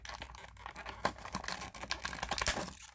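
Twist tie being cut off a plastic toy packaging tray: close crinkling, snipping and scratching, with quick irregular clicks over a few seconds.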